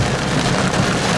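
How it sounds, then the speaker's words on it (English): Heavy rain pouring down outdoors in stormy weather with a tornado nearby: a dense, steady, close hiss of falling water that fills the whole moment, with no voices. "it is pouring right now, like hard to see"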